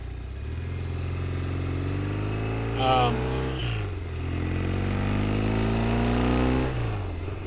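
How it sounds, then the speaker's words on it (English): A Norton Commando parallel twin motorcycle engine runs close by with a deep, steady idle, briefly blipped higher around the middle before settling, then rising again and dropping back near the end. "That parallel twin Norton is just an orchestra."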